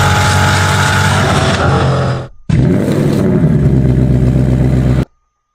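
A Hennessy 1200-horsepower supercar engine revs hard and loud and close, with a brief cut after about two seconds before a second sustained roar that ends abruptly.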